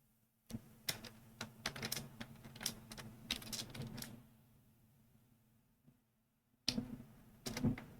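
Quiet computer keyboard typing a spreadsheet formula in Google Sheets, bursts of quick key clicks with a pause midway, then a few more keystrokes near the end.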